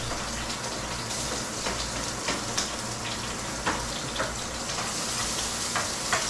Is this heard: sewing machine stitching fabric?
no